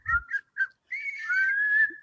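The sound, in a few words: person whistling like calling a dog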